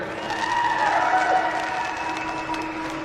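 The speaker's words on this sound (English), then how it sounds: "So, one more round of applause." Crowd at a Weber County fair junior beef show cheering and applauding the grand champion steer, a steady, loud wash of clapping and shouts with no speech over it.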